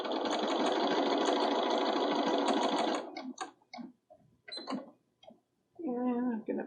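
A sewing machine runs in a steady, loud burst of stitching applique fabric for about three seconds, then stops; soft handling clicks and rustles follow, and a short bit of speech comes near the end.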